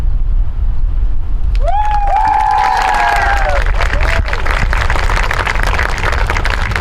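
A crowd at a high school NJROTC cadet inspection ceremony breaks into loud applause and cheering, with rising whoops and whistles over dense, continuous clapping.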